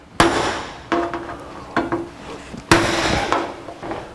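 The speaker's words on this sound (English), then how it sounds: "Now we'll come back and punch it with a punch." Four sharp metallic hammer strikes on a center punch into metal ring out at uneven intervals, each a crisp clank with a short ringing tail.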